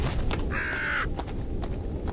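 A crow in the horror game Jisatsu gives a single harsh, nasal caw lasting about half a second, clear against a low background rumble.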